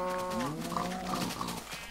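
Cows in the video game Minecraft moo in a long, low, slightly wavering call that rises and falls, alone over a steady background.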